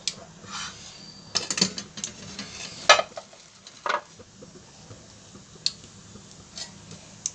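Cumin seeds crackle and sizzle in hot oil for chutney, with scattered pops and ticks over a soft steady frying hiss, close and fairly quiet, no talking.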